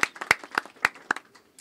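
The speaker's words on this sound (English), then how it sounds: "a round of applause for all the healthcare workers and everything that you do" A few hands clap for hospital healthcare workers at an ambassador's development tour event in Kisii County. The claps come as scattered, sharp slaps, several distinct hits spaced unevenly and fading out, rather than a dense ovation.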